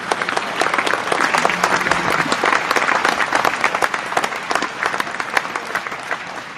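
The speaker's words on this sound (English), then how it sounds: "Let me applaud that real quick." Sustained applause from a crowd, dense steady clapping lasting several seconds with no talk over it.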